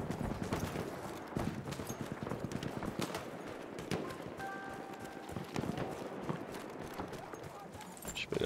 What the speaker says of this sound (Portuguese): Deixa eu pegar aquele cavalo ali.